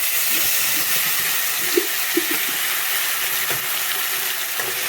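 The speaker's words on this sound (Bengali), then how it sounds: "তেল রেডি এখন আমি দেবো মশলা" Spice mix frying in hot oil for a cabbage and egg dish, a steady close hiss and sizzle running throughout with a few faint clicks, no talking.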